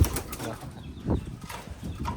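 Racing pigeons being fed during recall training, with a low soft coo near the middle and brief wing flutters over a steady background murmur, fairly faint and close.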